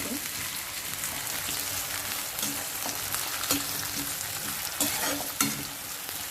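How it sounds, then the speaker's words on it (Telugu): Onions sizzle steadily in hot oil in a pan, a constant close crackling hiss with occasional louder scrapes and pops as they are stirred. "ఆనియన్స్ మంచిగా ఫ్రై అవ్వాలండి"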